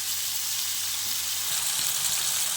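Tomatoes sauté for idli sambar in a pan, giving a steady, close hiss of frying that runs evenly throughout with no talking.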